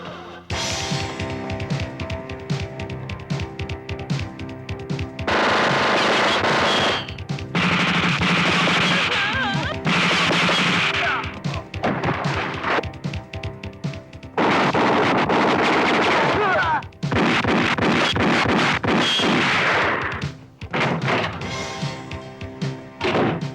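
A gunfight in a Tagalog action film: dense, loud bursts of rapid gunfire alternate with quieter stretches, all set against a steady musical score.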